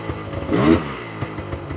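A Yamaha Vmax 700 snowmobile engine idles with a steady throb, then gives one short rev that swells and falls before settling back to idle, heard close by.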